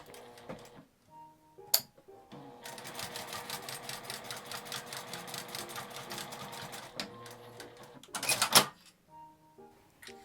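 A sewing machine stitching a shoulder strap made of twill tape, running in a fast, steady burst of needle clatter for several seconds, with short starts, a pause, and a sharp back-stitch burst near the end; no talking.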